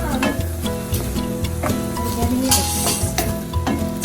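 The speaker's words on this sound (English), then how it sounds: "let's just simmer it down some more" Chicken quesadilla filling simmers and sizzles in a pan, a steady close frying hiss with stirring scrapes, over background music.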